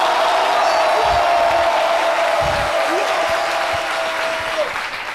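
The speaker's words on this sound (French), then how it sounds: "On va donc l'applaudir." A studio audience on a French daytime talk show applauds an award-winning radio comedy program, a loud, sustained wash of clapping with faint whoops and a steady tone running underneath.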